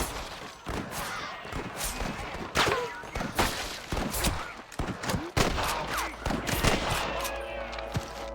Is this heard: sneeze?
no